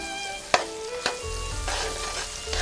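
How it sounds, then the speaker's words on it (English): Onions and bell peppers sizzle steadily in warm oil left over from frying meatballs, with a couple of sharp utensil clacks against the pan as they are stirred. "let the onions sweat and your bell peppers to sweat"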